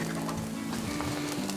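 Kielbasa sizzles on a Blackstone griddle, giving a soft, steady crackle with small pops, close and continuous with no talk over it.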